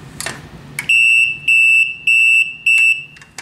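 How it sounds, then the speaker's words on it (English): An alarm board sounds four loud, evenly spaced high electronic beeps, each about half a second long, after a few faint clicks and rustles. "turn the alarm board on and it emits a constant beep"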